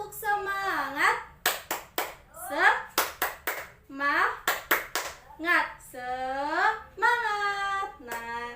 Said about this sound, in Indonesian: kita tepuk semangat yuk bareng-bareng